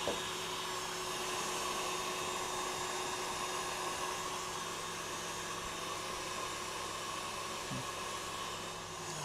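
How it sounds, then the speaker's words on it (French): An electric mixer whips cream for a chocolate mousse in a home kitchen, a steady whirring motor drone that runs unbroken and fairly quiet, with no talking. "Je vais monter par la suite ma crème fouettée"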